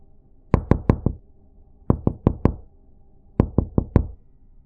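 Knuckles rap out a rhythmic tune on a door in three crisp, close groups of four knocks, each group separated by a short pause.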